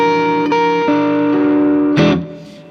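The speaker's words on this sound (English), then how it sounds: "The flat 5th sounds like this over the dominant." Distorted electric guitar plays a few sustained notes over a dominant chord, the tense clashing flat fifth ringing out before a final strum that fades away.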